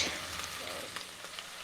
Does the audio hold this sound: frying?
yes